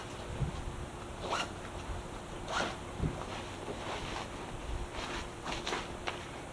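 Zippers on the back of a motorcycle jacket are drawn open in several short rasping pulls, close and fairly soft over steady background hiss, with handling rustles between strokes.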